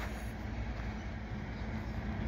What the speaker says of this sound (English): just in time to see a train